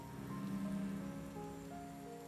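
Rain starts in the video game Final Fantasy 14, a faint, soft hiss of falling rain under sustained tonal game music.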